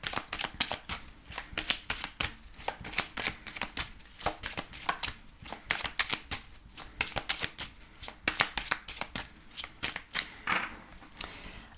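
Tarot cards are shuffled by hand close by, a rapid series of crisp riffling slaps and flutters in irregular bursts, with no talking.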